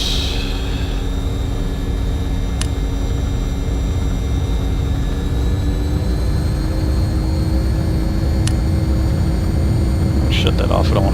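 Steady whine and broad roar of MD-80 jet airliner engines in the X-Plane 10 flight simulator, continuous and fairly loud throughout, with a couple of brief clicks.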